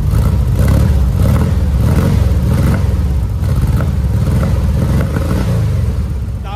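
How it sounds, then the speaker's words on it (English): A cold car engine runs through a custom-fabricated exhaust inside a closed garage, producing a loud, steady, deep rumble with a slight pulsing throb, close and continuous without voices. "But anyways, it sounds really, really good. It's got a lot of compression."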